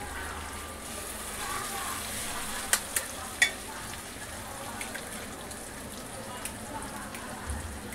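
Eggs fry in a pan over a low gas flame with a soft steady sizzle, and a few sharp taps and clinks stand out near the middle.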